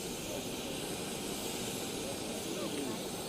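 An airplane engine roars steadily at the foot of the plane during the Sierra Leone president's arrival, a loud continuous drone with people talking underneath.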